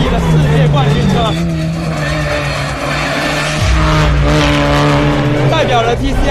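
A current world-champion TCR race car from a Chinese brand, factory team car 03, drives on a racetrack. Its engine drones loudly and steadily, with a gear change partway through and a faint murmur of voices beneath.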